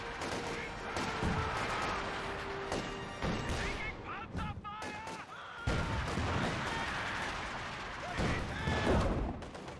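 Artillery rounds from a smoke barrage thump and crash in Company of Heroes 2, several scattered impacts amid dense battlefield noise, with a commentator talking over it.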